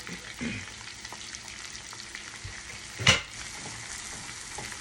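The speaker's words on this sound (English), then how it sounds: "And I'm gonna toss it in to my butter." Chopped jalapeño sizzles in melted butter on the stove, a soft, even frying hiss that continues throughout, with one brief clack of a utensil midway.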